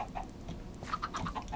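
Chickens in a farming video game cluck in quick, repeated bursts, fairly close and with no talking over them.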